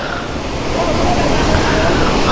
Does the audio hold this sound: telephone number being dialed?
no